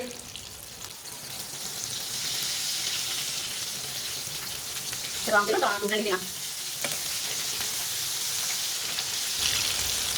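Shami kababs fry in a pan with a steady, soft sizzle and crackle of hot oil that runs continuously, with a brief spoken remark partway through.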